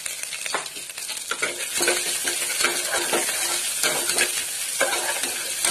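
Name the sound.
frying rice masala with turmeric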